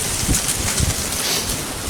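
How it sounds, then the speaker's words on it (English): Strong wind buffets the microphone with a loud, continuous roar and rushing hiss, gusting unevenly over the whole stretch. "So super windy out here"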